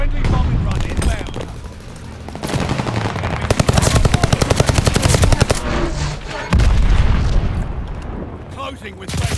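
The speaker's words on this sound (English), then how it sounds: "Friendly bombing run inbound." A Call of Duty Vanguard multiplayer bombing run sends loud, dense explosions and booms over rapid machine-gun bursts. Heavy blasts roll continuously with brief rattling volleys, and voices are heard among the battle noise.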